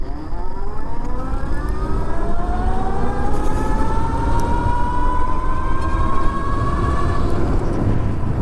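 Arkveld Apex One electric bike pulling away at full throttle, slightly downhill, its motor whine rising steadily in pitch under a broad rush of wind and road noise.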